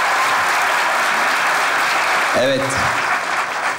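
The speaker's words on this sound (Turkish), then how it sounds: "Bir alkış alalım." An audience applauds at a live comedy musical stage show, dense steady clapping filling the space loudly throughout, with a voice briefly speaking over it near the end.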